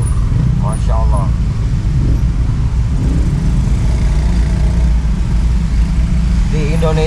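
Dense street traffic jam with cars and many motorcycles, a steady loud rumble of idling and creeping engines close by, with brief horn-like tones near the start and end.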